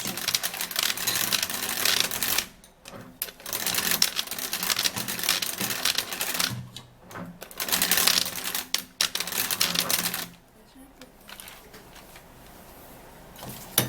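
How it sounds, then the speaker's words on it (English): A manual mixer churns an oatmeal mixture with rattling, clicking whirs in several close, fairly quiet bursts separated by short pauses. "I would have to be using my manual mixer to mix it so that the oatmeal could dissolve into the"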